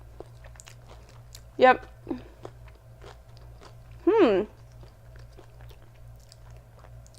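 Someone bites into vegan queso cheese dip, giving two short crunchy bites a few seconds apart over quiet room hum, with a brief spoken word between them.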